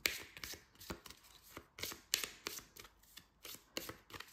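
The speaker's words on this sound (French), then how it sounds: "Je vais les mélanger." Board game cards from Tales of Nine being shuffled by hand at a table, a run of quick crisp riffling bursts with short pauses between them, close and fairly quiet, with no talking.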